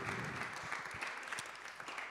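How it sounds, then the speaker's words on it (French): An audience at a business round-table panel on commercial transformation claps for the speakers, a dense, even patter of applause heard faintly from a distance for about two seconds. "Merci messieurs, on peut les applaudir bien fort"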